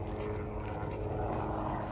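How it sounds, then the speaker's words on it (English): Low, steady engine drone of a police helicopter overhead on a hot day, continuous and fairly distant, with no talking. "Police helicopter in the air."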